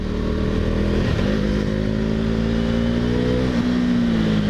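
A KTM Duke 390 single-cylinder motorcycle riding through town, its engine drone loud and continuous from the rider's position, with a gentle rise in pitch as it accelerates and wind rumble underneath, no speech.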